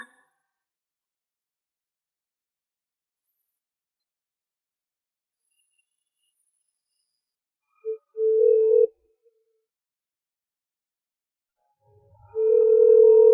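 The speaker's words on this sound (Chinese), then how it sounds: "桌子怎么不接电话了？" A telephone ringback tone on an unanswered call: a short beep, a pause, then a steady tone that starts again near the end, heard clearly against near silence.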